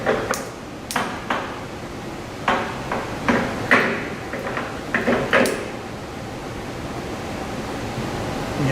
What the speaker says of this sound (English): you move the lever in order for it to actually engage the gears